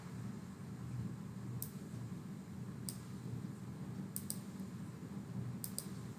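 A computer mouse clicks several times, crisp single and double clicks spaced a second or so apart, close and clear over low steady room hiss, while running a Python program in IDLE.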